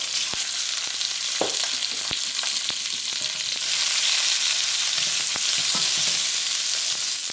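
Chopped onions and red pepper fry in a pan with a loud, dense, continuous sizzle that swells slightly halfway through, and a few faint stirring clicks sit underneath.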